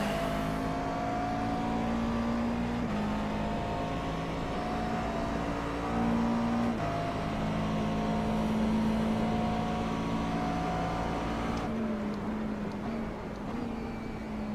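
A McLaren MP4 12C race car idles in the iRacing sim at Sebring International, giving a steady, continuous engine drone with sustained harmonic tones that hold level throughout, with no voices over it.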